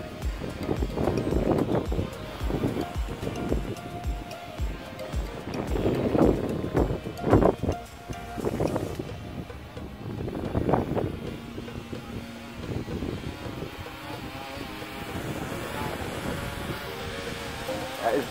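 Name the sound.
wind blowing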